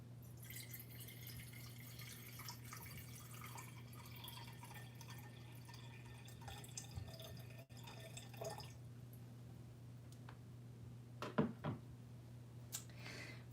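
French absinthe is poured and drips into a glass at a quiet home setup, a faint steady trickle with a few sharper drops near the end over a low background hum.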